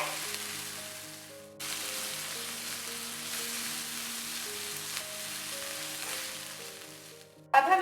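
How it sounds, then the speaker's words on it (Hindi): Carrots and capsicum frying in a pan for white sauce pasta make a continuous, even sizzle under soft background music, with a brief louder clatter at the very end. "इसको हमने 1 मिनट के लिए फ्राई करना है"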